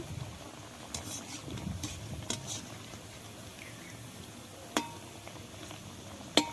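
Homemade biscuits frying slowly in oil on low heat, a quiet soft sizzle and bubbling with a few sharp clicks of utensils against the pan.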